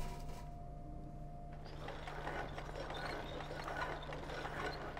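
A meat grinder in the Little Nightmares video game churns empty, giving a steady mechanical whir with rattling, ratchet-like clatter and a constant low hum, loud and continuous with no voices.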